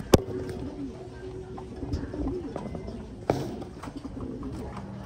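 Fancy pigeons coo softly in a loft, a low, steady murmur with a few sharper clicks and wing or foot sounds, heard close amid faint background noise.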